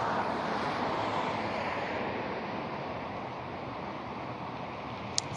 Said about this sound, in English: There's a plane flying directly over me.